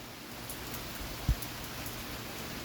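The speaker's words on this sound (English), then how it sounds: "There, you can see the rain now." Steady soft hiss of rain falling, even and continuous, with one brief low thump partway through and no voices.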